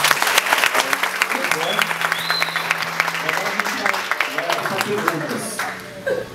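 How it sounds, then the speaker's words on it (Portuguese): Applause from an audience at a talk about entrepreneurship in the periphery, dense and sustained, with scattered chuckles and crowd murmur mixed in before it thins near the end. "quem gostou, bate palmas de novo"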